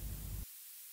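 Ableton background noise played without its EQ high-pass filter, a full, rumbling broadband hiss with heavy low end that suddenly thins to a brighter, lighter hiss midway through the second.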